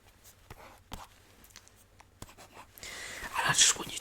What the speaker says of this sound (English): I'm just going to write out some random letters